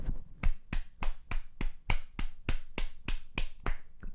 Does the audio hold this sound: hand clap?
yes